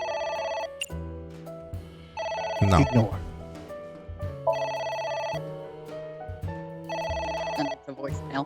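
A telephone in AI: The Somnium Files rings in repeated bursts of bright electronic trilling, loud and close, while game music plays and a voice speaks between the rings.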